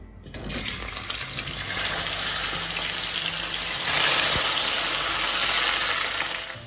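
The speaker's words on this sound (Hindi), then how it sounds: "अब हम इसे फ्राई कर लेंगे" Taro root (arvi) pieces frying in hot oil for a dhaba-style arvi masala, a steady dense sizzle that swells louder partway through and then holds, with no talking.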